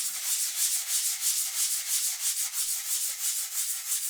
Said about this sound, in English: So just kind of sand these down.